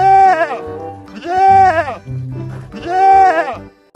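Three long, wavering sheep bleats, loud and close, each separated by a short pause, with some low background noise in between.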